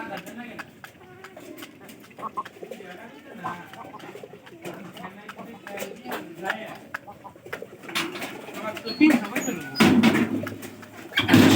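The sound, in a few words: pigeon cooing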